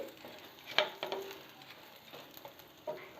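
Thick onion roti cooks in a pan over a medium flame, with a low steady sizzle and a few sharper crackles and pops.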